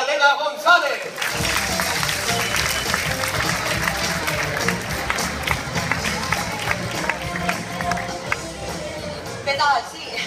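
An audience gives a speaker a long, sustained round of applause at a science event, a dense steady clatter of clapping from a crowd with voices mixed in.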